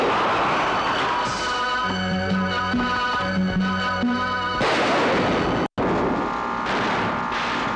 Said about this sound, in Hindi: तुम उधर जाओ। चालू, उस बुर्जी से फायर करो।